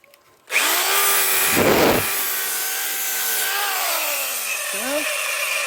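A Black & Decker power tool grinds away a chassis number on a VW T5 camper van, a loud continuous whine and rasp that runs throughout, with a harsh scraping burst near the start and small pitch shifts as the load changes.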